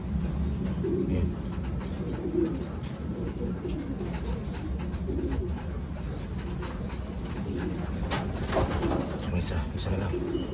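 Racing pigeons coo softly and repeatedly against a constant outdoor background hum, with faint voices and occasional fluttering nearby.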